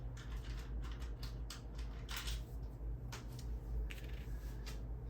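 Dice roll in a board game of Global War 1985, with several light clattering taps over steady background hum, close and moderately loud with no talking.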